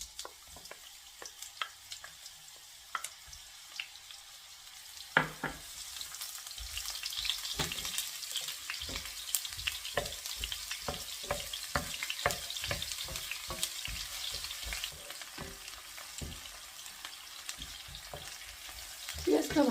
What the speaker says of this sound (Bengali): পেঁয়াজটা ভাজা হয়ে গিয়েছে